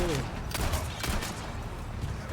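Bursts of gunfire from the Resident Evil 4 Remake, a few sharp shots in quick succession over a dense, busy game soundscape with a low rumbling bed.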